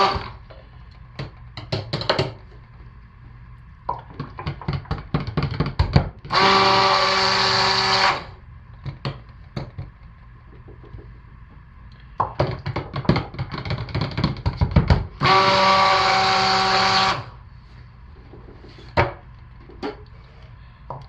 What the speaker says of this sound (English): I am going to hit these very quickly with the stick blender just to finish emulsifying our soap